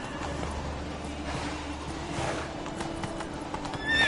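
Roach, a horse in The Witcher 3, trots with steady clip-clop hoofbeats and lets out a whinny over a constant hiss of game ambience, fairly quiet and continuous throughout.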